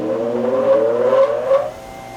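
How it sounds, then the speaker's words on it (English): A cheap bench grinder spinning up as its wheels are trued in a shop, a rising whine with climbing tones that swells and then settles into a steady hum. "I took the bench grinder out to the main shop area and trued out both wheels."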